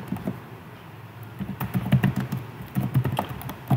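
Nearby computer keyboard typing while writing Python function code, irregular bursts of quick key clicks with short pauses between them.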